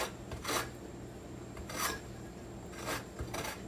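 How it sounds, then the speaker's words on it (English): Lemon being zested on a grater while making a blueberry lemon loaf, with repeated short rasping strokes in bursts spaced about a second apart, moderately close and quiet, no talking. "let me see how much of this I need before I keep zesting and zesting"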